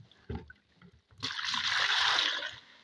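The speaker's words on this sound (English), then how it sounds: "So I'll measure 2 liters of water from here." Two litres of water poured into a container and measured out for dissolving XLS while making medicated hair shampoo: a steady splashing pour of about a second and a half after a couple of faint knocks, close and fairly loud.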